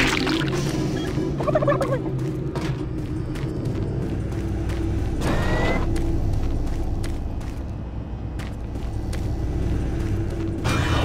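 Turkey gobbles from the arcade game Turbo Turkey Puncher 3 inside Doom 3, bursts of loud gobbling over creaking mechanical game noise and a low hum.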